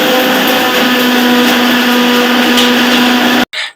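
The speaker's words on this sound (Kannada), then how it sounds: "ಹಾಗೆ ನೆನ್ಸಿರೋ ಗೋಡಂಬಿ ಕೂಡ ಹಾಕೊಂಡು ಚೆನ್ನಾಗಿ ಇದನ್ನ ನುಣ್ಣಗೆ ರುಬ್ಕೋಬೇಕು." A mixer grinder jar whirring as it grinds almonds, poppy seeds and soaked cashews, a loud steady motor drone close up that cuts off abruptly, then restarts briefly.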